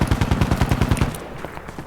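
Rapid automatic gunfire in the game Insurgency Sandstorm strikes a turret in bursts of evenly spaced loud shots for about a second, then trails off into quieter scattered noise.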